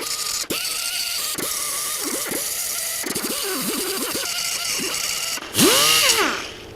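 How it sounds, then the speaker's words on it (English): A cutoff wheel grinds down a fresh weld on a custom one-off fuel tank, a loud continuous whine broken by short pauses and shifting pitch sweeps as the disc is pressed and lifted, rising to a brief higher-pitched spin-up near the end. "I'm going to take my cutoff wheel and clean that up"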